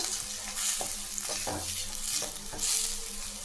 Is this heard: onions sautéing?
yes